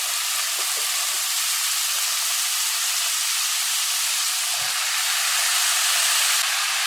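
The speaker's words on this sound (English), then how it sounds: "And now we're going to go in with our squash." Squash dropped into hot oil with shrimp, frying with a steady, broad sizzle and hiss that holds loud and even throughout, with no voices.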